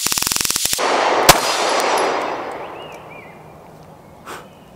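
An STI Staccato P pistol fires 115 grain ammunition: a rapid string of sharp reports opens, then one loud shot rings out and decays into a long reverberant tail outdoors, with a fainter clank near the end.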